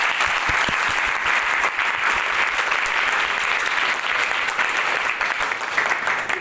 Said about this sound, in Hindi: एक बार जोरदार तालियां अपने लिए बजा के दीजिए।